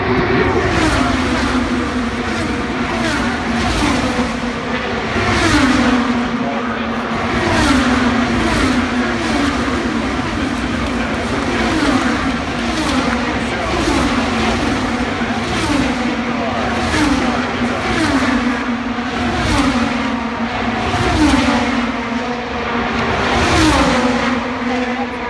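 IndyCar race cars roar around the Indianapolis 500 oval in a loud, continuous drone, with engines rising and falling as cars pass close by. A commentator talks over the engine noise.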